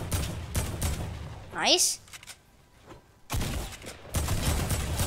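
Gunfire from an assault rifle in the Fortnite video game, close rapid bursts of shots at the start and again near the end, with a quiet stretch between and a player's voice speaking over the action.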